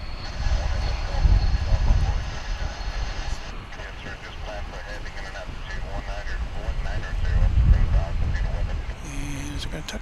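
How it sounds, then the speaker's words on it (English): A Delta Airbus A220 comes in to land at DFW airport, its jet engine rumble swelling and easing in two broad surges, moderately loud, with a short sharp tone near the end. "Coming in from Salt Lake City is that Airbus A220."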